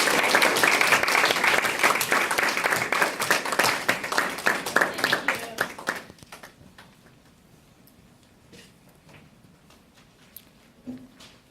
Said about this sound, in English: give a large round of applause to Joanna